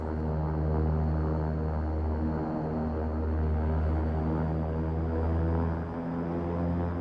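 A propeller aircraft in the X-Plane 11 flight simulator holds a steady, loud, droning engine hum with a constant pulsing buzz that barely changes throughout, with no voices over it.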